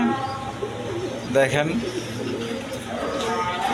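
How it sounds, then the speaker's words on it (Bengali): Pigeons coo softly in the background while someone speaks briefly over them, the cooing continuing under his voice. "দর্শকবৃন্দ, এখানে এক পেয়ার কবুতর আছে"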